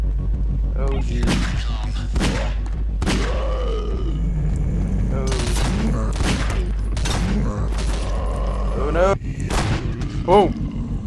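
Loud, nearly continuous gunfire and heavy booming explosions from the horror shooter Nightmare House, with repeated sharp bursts over a low rumbling bed and a player shouting and talking throughout.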